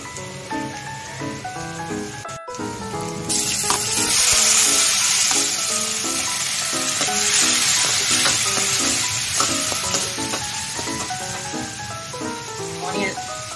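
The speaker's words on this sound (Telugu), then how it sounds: "అవి బ్రౌనిష్ కలర్లో రావాలి, అప్పుడు దాకా ఫ్రై చేయాలి" Onions fry in oil as they are stirred, a bright continuous sizzle that swells loud and close, while someone talks over it and background music plays throughout.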